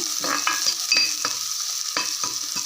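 Green chilies sizzling in hot oil for nombu kanji, a steady bright frying hiss broken by a series of short spatters and pops, close and without talk.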